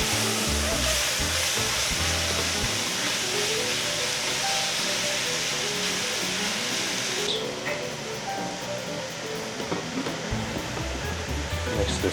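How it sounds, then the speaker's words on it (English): Pork searing in a hot pan for a Filipino pork and squash stew, giving a loud, steady sizzle and hiss that lasts throughout, with some shifting around the middle. "I'll be adding the pork in first. I want to make sure I get a decent sear."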